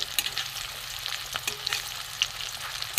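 Prawn kebab balls sizzle in hot oil, a soft steady frying crackle with scattered pops and small clicks of the balls being turned.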